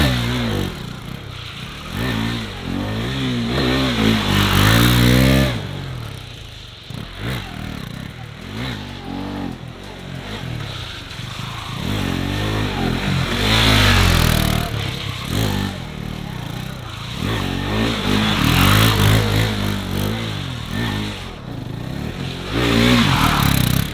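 A 2022 KTM RC 390 motorcycle revving hard during drift attempts on grippy tyres, the single-cylinder engine rising and falling through loud repeated surges with tyre scrub and clatter, close and continuous.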